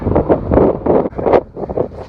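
Gusty wind buffets the microphone on a Pacific Crest Trail hike in low, rumbling bursts, rising and falling in uneven pulses with nothing else clearly audible.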